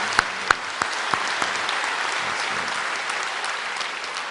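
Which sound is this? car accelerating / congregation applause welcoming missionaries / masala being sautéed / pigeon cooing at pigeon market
congregation applause welcoming missionaries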